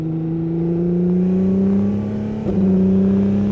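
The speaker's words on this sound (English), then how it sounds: "Let's let the engine get up to temperature." The 2004 Red Bull Racing Formula One car's engine hums loudly at a steady pitch as it warms up, rising gradually before a brief dip and a slightly louder, higher surge.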